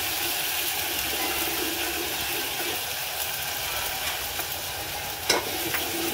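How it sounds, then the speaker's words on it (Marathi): Garlic-ginger paste sizzles steadily in hot oil for a Marathi-style dal dumpling curry, a continuous broadband frying hiss with faint stirring and one brief sharper crackle near the end, no voices. "आता लसूण अद्रक टाकायचं पेस्ट, त्याला छान लाल होतपर्यंत तेलात होऊ द्यायचं।"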